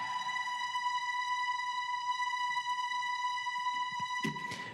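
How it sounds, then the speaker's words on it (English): A sampled string part from the pre-chorus of a pop remake holds steady sustained pitched tones, playing alone at an even level and ending with a short noisy burst. "during the pre-chorus, there's actually a string that plays in the last half of it."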